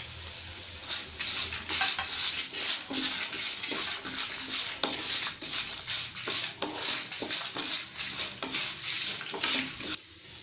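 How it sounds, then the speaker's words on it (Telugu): Dry red chillies and dried coconut roast in a pan, stirred steadily with scraping metal strokes over a continuous dry sizzle, close and fairly loud, no voices. "ఎండుమిర్చి కొద్దిగా వేగాక ఇందులో ఎండి కొబ్బరి వేసుకొని వీటిని కూడా వేయించుకోవాలి"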